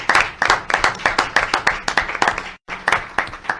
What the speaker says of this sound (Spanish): un aplauso para ellas y para ellos